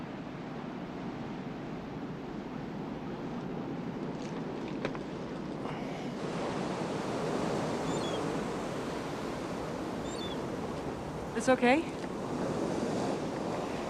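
Ocean waves and surf at the beach, with a continuous soft wash that swells gently midway. A brief voice and a few scattered sharp noises appear near the end.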